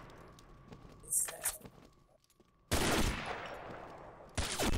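Gunfire in a sniper training match of an online shooter game, a loud sudden burst of shots that cuts in abruptly and repeats, following quieter footsteps and ambience.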